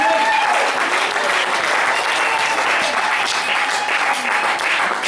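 A church congregation claps and cheers for Jesus during a sermon, a loud, dense, continuous wave of applause with voices mixed in, sustained across the whole stretch.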